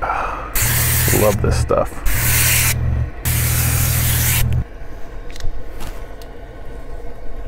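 A spray gun applies SpeedClean coil cleaner in three loud, sustained hissing blasts with a brief break between them, followed by quieter dripping and rustling; someone speaks briefly over the spraying.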